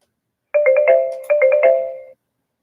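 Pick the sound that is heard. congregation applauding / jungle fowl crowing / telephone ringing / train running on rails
telephone ringing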